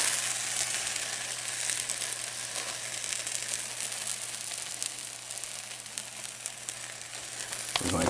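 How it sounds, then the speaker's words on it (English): Bread spread with mayonnaise sizzles steadily in a hot pan for a grilled egg and cheese sandwich, a close, even frying hiss that ends with a brief clunk. "So now we're going to take our bread, and you're going to hear it sizzle."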